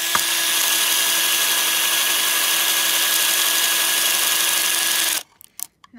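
A power drill runs continuously at full speed, loud and close, with a steady high whine for about five seconds before stopping abruptly, followed by a few faint knocks.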